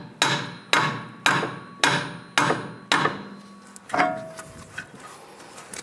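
A hammer taps the axle into place on a 1998-2010 Volkswagen Beetle during a strut and spring replacement: six sharp, evenly spaced metallic blows up close, then a few lighter knocks.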